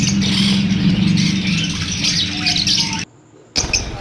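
Fischer's and peach-faced lovebirds squawk and chirp continuously at a busy Sunday bird market in Bahawalpur, a dense chattering flock close by, briefly cutting out near the end before resuming.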